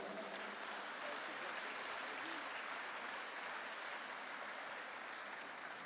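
A crowd at a basketball club's season presentation in a sports hall applauds the new players, a faint, distant and even wash of clapping that holds steady without a break.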